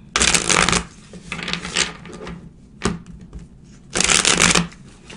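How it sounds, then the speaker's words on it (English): Tarot cards being shuffled by hand in three bursts of crisp riffling and flicking, loud and close, with quieter card handling and a sharp tap between them and no talk. "Let's pull a couple more cards."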